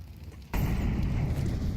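An incendiary grenade bursts in Counter-Strike on rooftops: a sudden whoosh erupts into a steady, loud roar of burning fire that carries on without a break.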